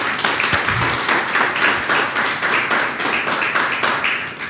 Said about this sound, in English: I would like to give a round of applause for the panel